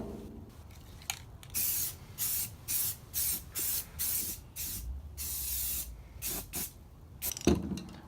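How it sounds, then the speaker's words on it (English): Automotive primer sprayed from a can onto a 1965 Jeep CJ5, heard as a series of loud, close hissing bursts in a steady rhythm, ending with a longer spray pass. "I'm going to hit it with some automotive primer"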